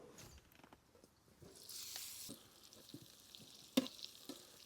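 Brussels sprouts cook in a pan over a gas stove in a van, giving a faint sizzle with soft scraping stirs and occasional sharp clicks and pops, no voices present.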